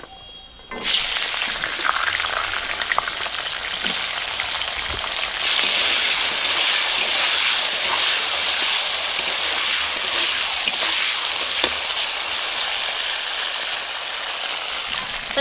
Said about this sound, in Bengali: এবার দিয়ে দেবো সজনে ডাঁটাগুলো ভেজে নেব।